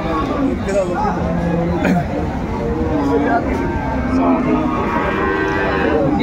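Cows and calves low repeatedly at the busy Aftabganj cattle market, their loud moos rising over steady crowd chatter and nearby talking voices.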